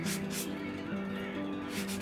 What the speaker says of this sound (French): Un petit coup de ponçage va permettre d'égaliser sa surface.